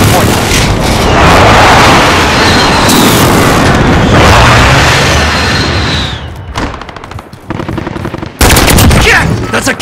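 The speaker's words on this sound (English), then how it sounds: "Allied precision airstrike incoming" Precision airstrike explosions in Call of Duty: Modern Warfare: heavy booms and rapid gunfire crash in close and loud, ease off into brief sputtering bursts and quiet gaps, then erupt again.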